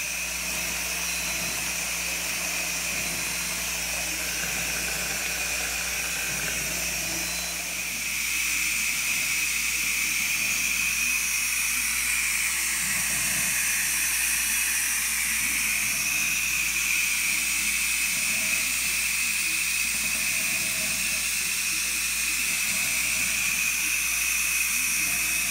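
Beef rolls wrapped in bacon searing in a pan, giving a steady loud sizzling hiss that holds continuously throughout with no talking over it.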